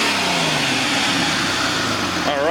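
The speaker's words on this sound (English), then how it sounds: "Give it a couple revs." A Jeep Cherokee 4.0 inline-six, 1997–2001 XJ, revs briefly after new four-hole fuel injectors go in, a steady close engine drone rising slightly before easing off near the end.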